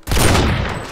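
A close, loud burst of rapid gunfire in the SA-MP DayZ video game, fired to kill a duck, a dense rattling volley lasting about a second with a decaying tail.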